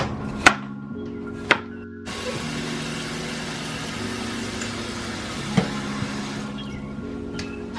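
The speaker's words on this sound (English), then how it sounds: "I'm gonna go ahead and get this cut up" A knife cuts up squash on a cutting board, giving three sharp, isolated chops spaced seconds apart over a steady low background hum.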